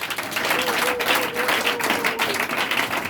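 Applause from a congregation at a church service fills the room, a steady dense wash of many hands clapping that lasts throughout, with no voices standing out above it.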